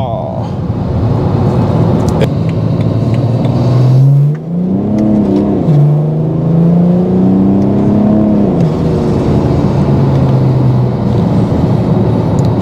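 A single-turbo BMW 335d diesel with an external wastegate accelerates hard, its loud engine note climbing and dipping through the revs with a rising turbo whine.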